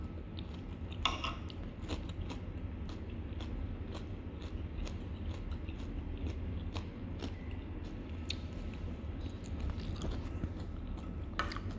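Close, quiet crunching bites and chewing on a crunchy breakfast snack, with sharp crisp cracks scattered irregularly over a soft continuous mouth noise, and no one talking.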